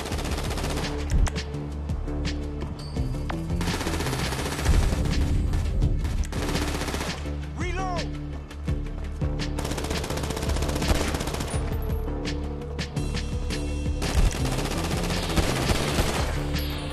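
Rapid bursts of gunfire in Grand Theft Auto 5 crackle continuously, machine-gun rattles layered with heavier blasts and booming effects, loud and dense throughout.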